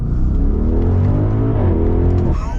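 A 2023 Audi RSQ8 accelerates at full throttle, its engine roaring loud and close. The deep, droning note rises steadily in pitch through the whole short burst.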